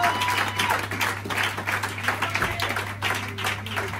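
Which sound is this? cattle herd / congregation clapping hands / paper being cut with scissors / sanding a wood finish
congregation clapping hands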